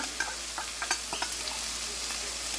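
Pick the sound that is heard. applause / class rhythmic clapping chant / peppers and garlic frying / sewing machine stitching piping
peppers and garlic frying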